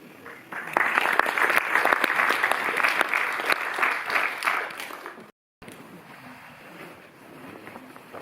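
Audience applause inside a Paris cinema during a screening event: a dense burst of clapping starts abruptly, holds for several seconds, then cuts out and gives way to quieter room murmur.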